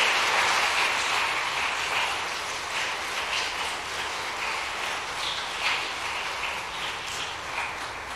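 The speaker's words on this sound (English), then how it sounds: "Let's give them a round of applause." An audience claps for the finalists of a law school trial competition, with dense, steady applause from a room full of people that is loudest at the start and gradually eases.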